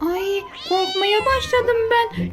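A cat's meowing plays through a toy phone, several drawn-out, rising and falling meows in quick succession, close and clear, with a voice speaking between them.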